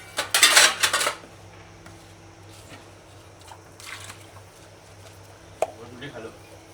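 Dishes, pots, pans and cutlery are washed at home, with a burst of loud metallic clattering at the start followed by quieter scattered clinks and knocks as voices talk in the background.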